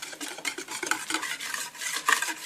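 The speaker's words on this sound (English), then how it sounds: "add that coconut flour and my baking powder and salt, which I've already mixed together. And whisk it quickly to avoid any clumps." A whisk beats coconut flour, baking powder and salt into batter for a low-carb paleo flatbread, making quick, rhythmic, wet swishing and tapping strokes close by.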